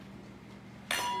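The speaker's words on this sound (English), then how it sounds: "So I'm going to mix all the dry ingredients together." Dry banana bread ingredients are stirred in a bowl: a quiet stretch, then a sudden bright clink and scraping rattle of utensil against the bowl that carries on to the end.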